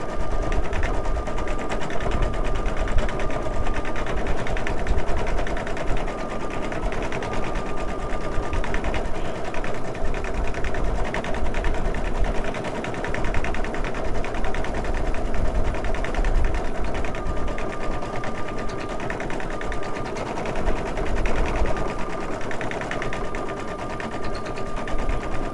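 An embroidery machine stitching cowboy boots for a 12-inch fashion doll runs in a continuous rapid mechanical whir. A periodic high beep-like tone recurs over the steady stitching.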